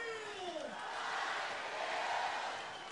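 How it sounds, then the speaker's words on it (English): A crowd at a beach volleyball match shouts and cheers, a rising swell of many voices with a falling whoop near the start, moderately distant and sustained. "As the crowd shout"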